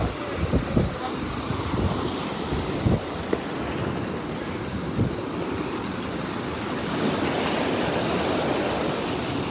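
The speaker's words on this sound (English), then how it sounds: "Big waves right now." Big ocean waves break on the Curacao shore in a continuous roaring surf, loud and close, with heavier crashes early on and wind buffeting the microphone, no speech.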